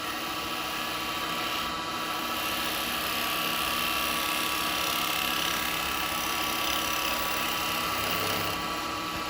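A maple tea light holder spinning on a wood lathe while a chisel cuts it, giving a loud, steady, unbroken whirring drone with a rough scraping edge.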